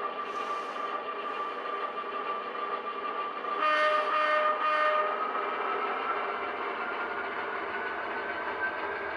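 A one-car model freight move on a Rock Island layout, with a single empty reefer car pulling up past a switch: a steady, close rolling rumble and hum, with a brief louder tonal horn-like burst partway through.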